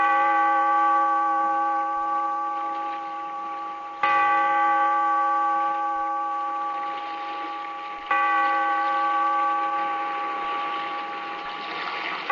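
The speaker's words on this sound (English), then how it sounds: "Bellkeeper, toll the bell, so that all may know we are gathered again" A deep bell tolled for a radio drama opening, struck three times at even intervals about four seconds apart, each ring sustained and slowly fading, alone without voices.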